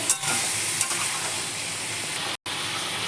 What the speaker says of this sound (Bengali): কিছুক্ষণ নাড়াচাড়া করে নিতে হবে